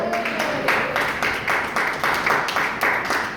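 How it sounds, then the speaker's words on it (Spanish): A church congregation claps together during a sermon in Panama, rhythmic applause with some voices mixed in, moderately loud and steady throughout. "¿Cuánto le damos el aplauso al Señor en esta hora?"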